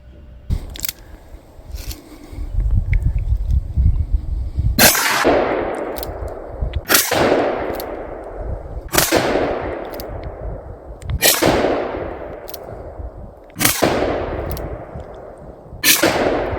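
Six gunshots fired at a slow, regular interval of about two seconds, each a sharp loud crack with a long fading echo, preceded by faint rustling and low rumbling in the background.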